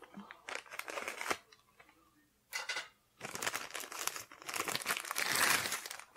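Crinkling and tearing of plastic packaging as a Cold Steel training knife is unwrapped, close and fairly loud, coming in irregular bursts with short pauses and rising to a dense crumpling flurry near the end.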